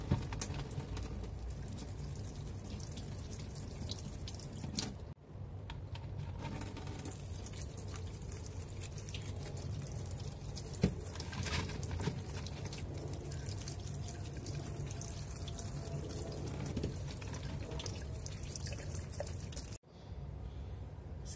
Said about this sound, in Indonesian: untuk menghemat semuanya air kita alirkan kecil aja